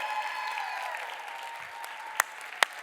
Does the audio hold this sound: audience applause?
yes